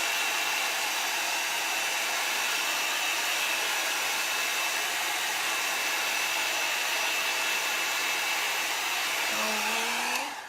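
Hair dryer blowing on a chalk paste craft piece, a loud continuous whooshing drone held steady for about ten seconds before winding down at the end.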